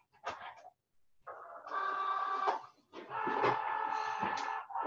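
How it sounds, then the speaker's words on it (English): A Cricut Joy cutting machine draws a card mat inside, giving short whirring motor bursts with pauses between them, close and fairly quiet, with no talking. "it's asking us to load the mat into the machine"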